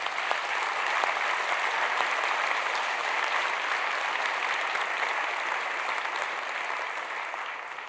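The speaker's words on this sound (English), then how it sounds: "I think that deserves some applause." Audience of about a thousand people at the Devex World 2018 conference breaking into loud, sustained applause, a dense, even wash of clapping that fills the hall and fades slightly toward the end.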